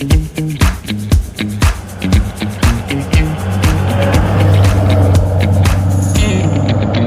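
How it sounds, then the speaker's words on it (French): A Dodge Challenger Hellcat on a road drive, heard as repeated rhythmic thumps and knocks from the car that give way to a steady, loud engine and road drone, with no talking. "Nous voilà partis pour un essai routier de la Dodge Challenger L4"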